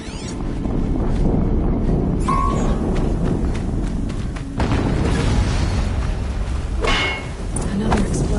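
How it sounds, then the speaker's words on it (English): Heavy explosions in Horizon Zero Dawn, a deep rumbling boom with a second blast around the midpoint, over continuous wind-like roar and low game ambience. "Another explosion."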